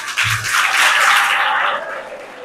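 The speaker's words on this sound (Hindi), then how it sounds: "जोरदार तालियां हो जाए।" Loud, steady applause from an audience at a school event, cheering on the girls, swelling quickly and holding as a dense, continuous wash of clapping before easing slightly.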